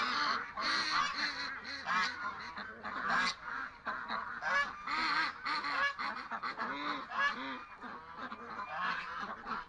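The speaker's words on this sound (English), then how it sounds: "Come on, ducks, wake up." A flock of ducks, including a mother and her young, honk and quack loudly and continuously in a dense overlapping chorus, close by on a farm in the early morning.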